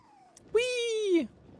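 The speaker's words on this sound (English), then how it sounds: "I'm trying to chase your cat." Single cat meow in the video game Nioh 3, one clear drawn-out call lasting about half a second, close and loud against a quiet background.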